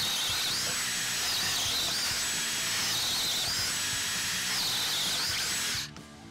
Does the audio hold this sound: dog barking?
no